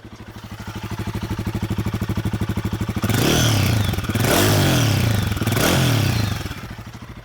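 A Royal Enfield Guerrilla 450 motorcycle idles with a steady, close thumping exhaust note, then revs sharply three times in quick succession, each blip rising and falling before settling back to idle, with no talk over it.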